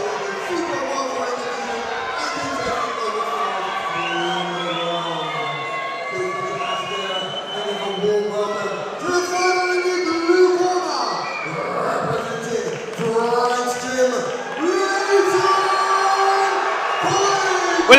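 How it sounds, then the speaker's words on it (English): A crowd at a fight event cheers and shouts for a fighter, chants and whistles rising and falling in a reverberant hall while commentators talk over it. "you come from Manchester to London and you bring a crowd like that with you for support"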